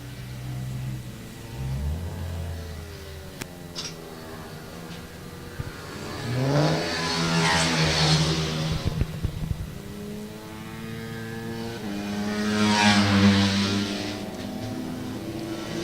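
CRF 150 and open-class pit bike motorcycles race toward the final corner at Lydd circuit, their high-pitched engines swelling loudly twice as bikes pass by and fading between, with race commentary heard over them.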